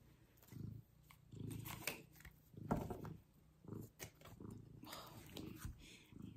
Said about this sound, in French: Regardez mon chat. Je pense que vous l'entendez.